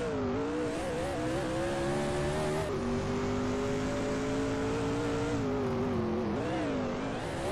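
NASCAR truck racing engines in a racing video game drone as the trucks leave the pits at Mid-Ohio, a steady loud whine with pitch that rises and falls and shifts through gears, continuous with no talking.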